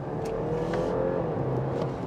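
A BMW 330e plug-in hybrid engine revs steadily in sport mode during paddle-shift gear changes, a continuous loud engine drone heard from inside the car with no talking.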